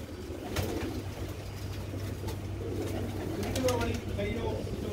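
Pigeons coo softly and repeatedly at a racing-pigeon gathering, with a steady low hum and people talking throughout.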